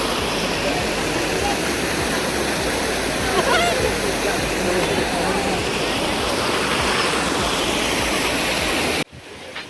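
Loud, continuous rush of river water flowing at Kottiyoor, Kerala, with a few faint voices in the background before it cuts off abruptly at the end.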